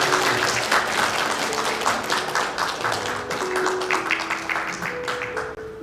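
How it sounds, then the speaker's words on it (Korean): Congregation applause during a deacon appointment at a Methodist church service in Cheorwon, Korea, sustained crisp clapping from many hands with faint tonal music or voices beneath, tapering slightly near the end. "우리 박수로 축하해주시면"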